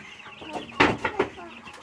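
Chickens and chicks being handled and tossed around outdoors give several short, close clucking bursts, three stronger calls in quick succession with quieter fowl noise between.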